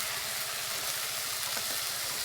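Spice paste frying with onions and tomatoes in a village-style kitchen, a dense, even hiss of sizzling oil that holds steady without pauses.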